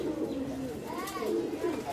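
Racing pigeons coo at a bird market, with soft rolling coos rising and falling close by in a continuous run.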